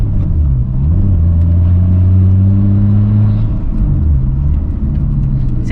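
A Nissan Skyline GT-R34 engine drones loudly while driving, its low pitch rising and falling through revs and gear changes in a steady, close cabin rumble, no talk.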